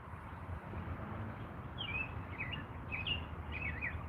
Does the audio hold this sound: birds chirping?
yes